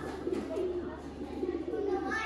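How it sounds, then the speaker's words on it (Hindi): A Batera pigeon coos softly nearby in a few short, repeated low calls against faint background noise. "ये देखें जी बटेरा कबूतर।"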